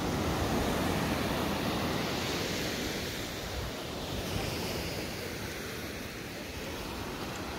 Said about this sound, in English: we head into the back beach here now